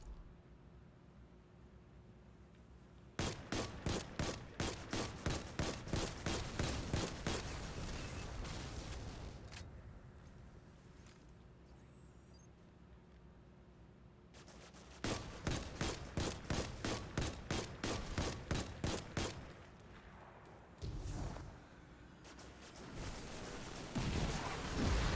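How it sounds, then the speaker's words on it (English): Gunfire in Destiny 2 on PS4 comes in two long automatic bursts of rapid, evenly spaced shots, loud and close, separated by quieter stretches of game ambience. "Shoot for distance, get him out of the way."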